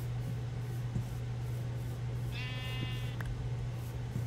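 A lone sheep bleats once in a video game, a short wavering bleat rising over a constant low drone and faint ambient clicks.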